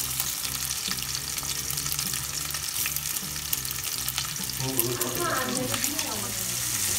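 Sausage frying in a hot pan gives a steady, close sizzle and crackle throughout, with occasional stirring and someone talking over it.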